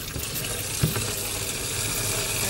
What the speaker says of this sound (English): So you rinse and swirl the water around.